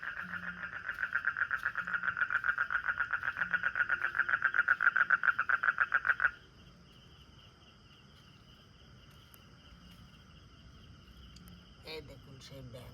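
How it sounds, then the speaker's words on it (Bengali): Frogs croaking at night in a village under dark rain clouds: a rapid pulsing call repeats steadily for about six seconds, then stops abruptly, leaving only faint background hiss. "এই দেখুন সেই ব্যাঙ কত সুন্দর ডাকছিল"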